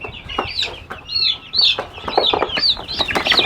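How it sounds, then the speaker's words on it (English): Chickens put out in a garden on a hot day cluck and chirp repeatedly at close range, with short bursts of squawking calls over a low background hum. "perfect time to put out chickens"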